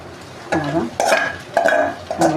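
Mutton keema being stirred and tossed in a cooking pot for a spicy Maharashtrian vada pav filling, with four distinct scraping bursts in quick succession over a faint background sizzle, fairly close and without any talking.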